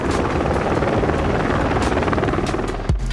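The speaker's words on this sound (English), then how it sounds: "In the sky, it's a helicopter, easy." Helicopter flying overhead in a competitive Call of Duty-style esports match, a loud steady rotor drone with rapid chopping pulses filling the whole stretch, ending in a brief thump.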